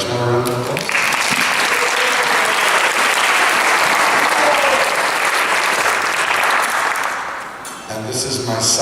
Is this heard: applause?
yes